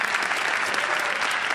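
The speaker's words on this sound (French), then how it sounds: "Une main d'applaudissement pour toute la jeunesse." A church congregation claps for the young people, a short burst of steady, close applause from many hands with no speech over it.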